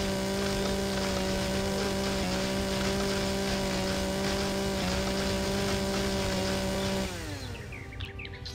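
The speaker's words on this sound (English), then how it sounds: "Let's go ahead and do a chainsaw. Chainsaw sounds good." A chainsaw in the video game Empyrion - Galactic Survival drones steadily with a buzzing motor hum, then its pitch shifts and trails off near the end.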